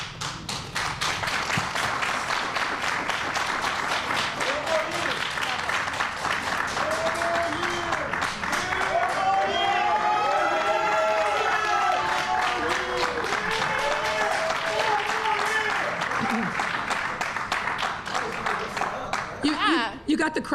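Applause from a crowd at a Chicago recovery plan announcement, steady broadband clapping and tapping sustained through the whole stretch, with voices talking underneath.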